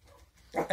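A small indoor house dog gives a brief, close whimpering yelp that rises sharply at the end, heard alone against a quiet room.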